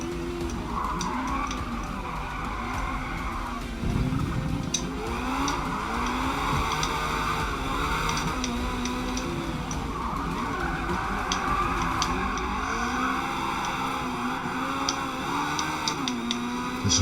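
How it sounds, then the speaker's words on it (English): Porsche 911 on a warm-up lap in the Forza Motorsport racing game, with repeated tyre squeals through corners over a continuous rising and falling engine note, close and steady throughout. "Put some heat into the tyres."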